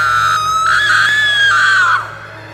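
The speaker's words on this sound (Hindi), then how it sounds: "आखिरी रात विशाल को अचानक कुएं से किसी के चिल्लाने की आवाजें आईं।" A person screams from inside a well in a Hindi animated horror story: one long, loud, piercing scream that holds steady, then bends downward and fades over a low background hum.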